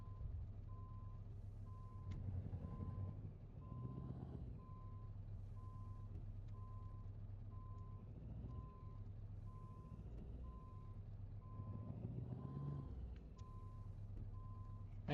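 Truck with a trailer reversing in Euro Truck Simulator 2, regular reversing beeps pulsing steadily over a low diesel idle that swells and drops as it maneuvers, fairly quiet, no voices.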